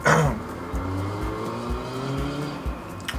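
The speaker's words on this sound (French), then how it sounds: "C'est insupportable ces voitures." Cars pass by outside a room, a steady low engine rumble with a few separate vehicle swells and a louder whoosh at the start, heard alone with no talking.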